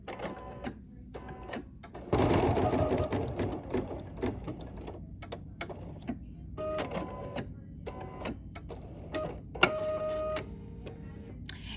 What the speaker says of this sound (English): now we're gonna stitch this second tack down stitch